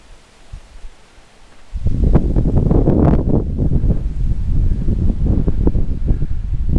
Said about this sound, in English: it is crazy windy today